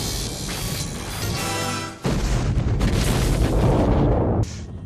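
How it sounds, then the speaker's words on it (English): A huge explosion from the 1987 film Predator roars loudly as a dense, sustained rumbling blast. It swells again midway and cuts off abruptly near the end. "That was a huge explosion."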